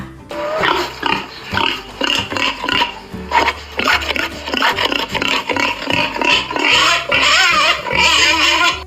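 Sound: pig grunting

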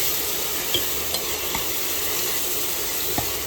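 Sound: stirring onion paste in a pressure cooker with a ladle

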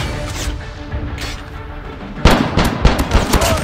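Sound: gunfire in video game Call of Duty

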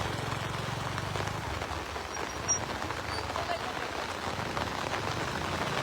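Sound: rain falling

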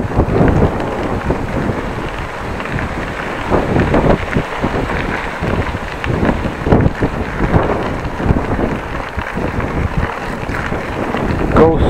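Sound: wind while cycling along a canal

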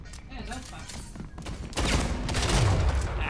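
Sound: gunfire in the video game Splitgate

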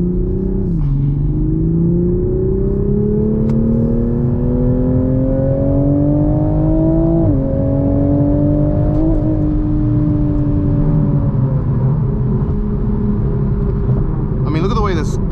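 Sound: 2021 Toyota A91 Supra turbo engine accelerating

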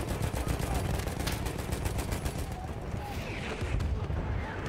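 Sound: covering gunfire in Battlefield 1 video game

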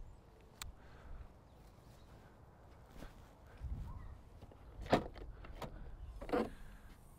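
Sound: electric boot release opening on a 2012 Land Rover Freelander 2

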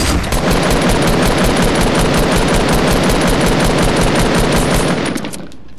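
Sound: gunfire in a video game

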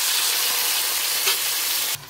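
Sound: mutton with whole spices sizzling and stirred in pan

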